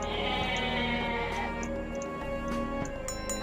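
A goat bleats in the Freyja's Blessing video game, a wavering harmonic call layered over steady game music with faint ticking.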